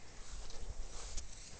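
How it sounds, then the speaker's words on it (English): Horses walking along a rural trail in Panama give soft, irregular hoof clops over a steady background hiss of wind or outdoor noise, with no talking. "The horses here are really tame."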